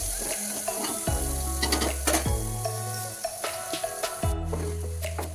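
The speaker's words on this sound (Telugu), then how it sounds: "ఉల్లిపాయలు, పచ్చిమిరపకాయలు, కరివేపాకు వేసుకొని ఉడికించుకోవాలి." Onions, green chillies and curry leaves fry in a pan with a continuous loud sizzle, punctuated by repeated scraping stirs and utensil knocks.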